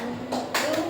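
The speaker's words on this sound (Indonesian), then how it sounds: "Kalau dibilang tepuk satu, berarti tepuknya sekali." Pupils in a ninth-grade classroom clap in unison, two or three quick, fairly soft bursts over a faint voice in the background.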